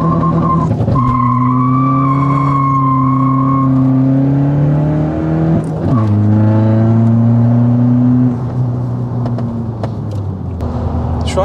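A modified 250 hp VW Golf Mk6 1.6 TDI diesel with a hybrid turbo is revved hard, loud and close, the engine note climbing and holding high before dropping and rising again in repeated long pulls.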